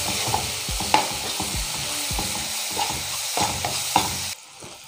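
Chopped onions and tomato sautéing in a pan for Chettinad prawn thokku, with a steady frying sizzle and repeated close scraping, stirring knocks against the pan, ending abruptly.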